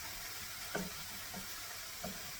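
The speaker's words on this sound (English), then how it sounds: "let me stir my stuff up here" Food frying quietly in a pan on the stove while being stirred, with a low steady sizzle and a few soft scrapes of the spoon at intervals, and no talking.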